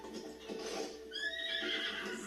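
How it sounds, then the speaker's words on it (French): A horse in the Zelda: Breath of the Wild video game gives a loud, wavering neigh lasting over a second, rising out of a busy game soundscape with no voices. "Ah, un cheval."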